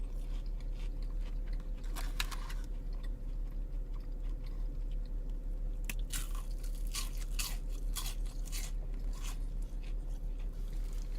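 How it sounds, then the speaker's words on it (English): Loud, close crunching from someone biting and chewing fried onion rings, crisp bursts recurring irregularly over a steady low hum, without speech. "Can you hear the crunch?"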